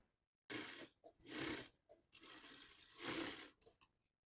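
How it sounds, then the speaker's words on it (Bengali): Sewing machine stitching gathered fabric onto a sleeve for a child's frock, running in several bursts of rapid mechanical whirring separated by brief pauses. "কুচির কাপড়টা হাতার এই মাথায় সেলাই করে চাপ সেলাই দিয়ে লাগিয়ে নেব"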